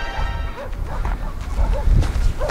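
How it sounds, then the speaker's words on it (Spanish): Several dogs bark at a distance around an abandoned mine, La Africana, on a hazy, smoggy day; the scattered barks come a few at a time over a steady, noisy outdoor background with faint low voices. "se escuchan perros, agáchate"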